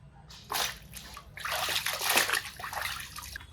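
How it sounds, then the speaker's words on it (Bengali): Water poured into a pan of bottle gourd and katla fish curry makes a splashing, sloshing pour that starts briefly, then runs steadily and close for a couple of seconds. "ঝোলের জন্য অল্প জল দিব"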